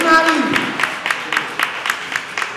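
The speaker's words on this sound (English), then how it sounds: "give y'all a round of applause" An audience at a launch party breaks into applause, a loose run of claps with a voice cutting in at the start.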